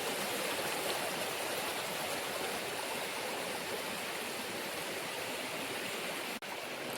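Water of a stream near the Kondana caves rushes steadily in a broad, even hiss that holds at one level throughout, close and continuous with no voices.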